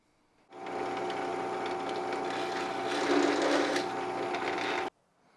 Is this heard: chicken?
no